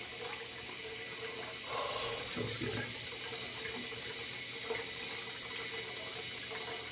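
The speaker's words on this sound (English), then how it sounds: "Get some water. Some water on the face." Tap water runs steadily into a bathroom sink while someone gets ready to shave, a close continuous hiss with brief splashing swells, and a short spoken remark over it.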